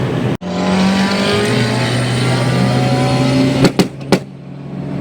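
Turbocharged Honda Civic held at high revs, a loud sustained engine roar close by, broken by a sharp cut at the start and several sharp exhaust pops near the end.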